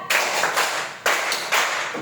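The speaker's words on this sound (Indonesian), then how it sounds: "Tepuk tangan" Four hand claps from a class following a teacher's counting game, crisp and evenly spaced at close range, each with a short room tail.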